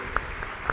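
Congregation clapping in a Spanish-language church service, a brief steady patter of hands with a couple of sharper claps standing out.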